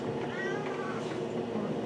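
A cat gives a short meowing cry indoors, rising and falling once over a steady background hum, with a possible voice faintly mixed in.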